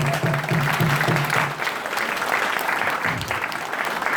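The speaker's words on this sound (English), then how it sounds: "can we give the chefs a round of applause up there?" Crowd applause for the chefs at a U.S. Embassy Fourth of July reception, a steady wash of many clapping hands held throughout, with a faint low hum under the first part.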